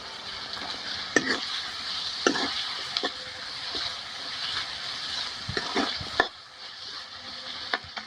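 Tomatoes and chopped potatoes fry in a pan for vegetable masala Maggi, making a constant close sizzle with intermittent spatula scrapes and knocks every second or two and no speech.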